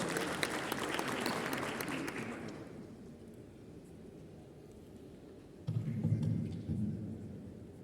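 Audience applause at a panel session in Marrakech, a dense burst of clapping for about two seconds that fades away, followed by a quieter stretch and a shorter swell of clapping near the end.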